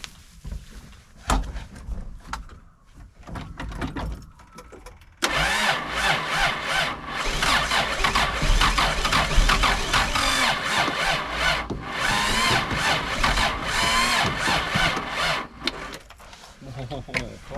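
A Toyota Dyna ramp truck engine cranking with a few short starter bursts, then catching and running with a rough, loud rattling idle that continues close by.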